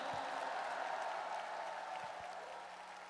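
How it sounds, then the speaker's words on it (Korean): Audience at a party candidate acceptance event claps in a soft, diffuse wash, distant and steady, slowly fading. "박수 한번 부탁드립니다"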